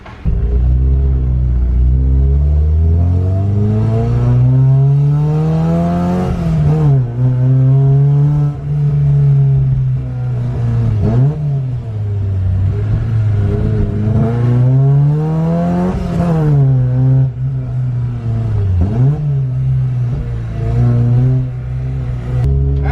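A Porsche 944 with a short-throw shifter pulls away and revs through its gears on a drive, the engine rising in pitch, dropping at each shift and climbing again. The engine note stays loud and close from start to finish.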